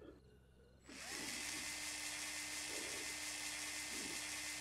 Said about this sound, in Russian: Тоже сверлить надо, да?